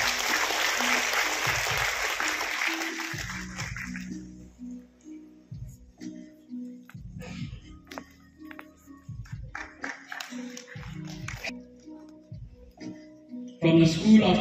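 Applause from a crowd at the fourth convocation of William Carey University, loud and dense for the first few seconds, then thinning to scattered claps under lower background noise before another burst near the end.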